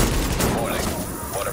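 Dense bursts of rapid gunfire in the shooter game Tom Clancy's The Division, a loud overlapping fusillade filling the whole short moment.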